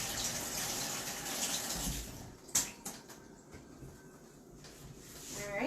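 A paintbrush rinsed under a running tap, a continuous splash of water with a few brief knocks and rustles of handling at close range.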